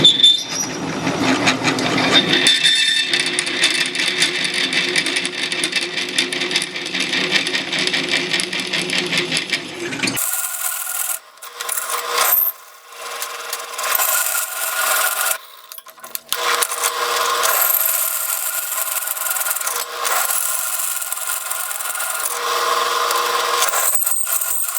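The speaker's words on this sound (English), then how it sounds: "Now I'm coming through with a 3/8 bit." A 3/8 bit drilling through forged iron: a steady, grinding mechanical whir with rasping, scraping texture, first heavy and low, then thinner and higher with brief pauses and resumptions, close and continuous.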